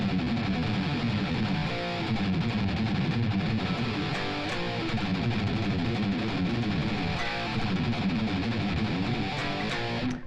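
Heavily distorted electric guitar chugs through power chords in E standard, loud and dense with steady rhythmic chord hits and no voice.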